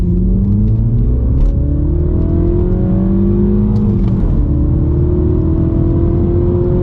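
A Mini Cooper JCW of the F56 generation launching hard from a standstill, engine droning loud and close as its pitch climbs through a gear, dips at a shift, then rises again.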